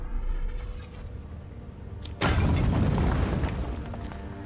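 A grenade goes off in a video game: a sudden loud blast halfway through, followed by a rumbling, crackling decay over quieter in-game ambience.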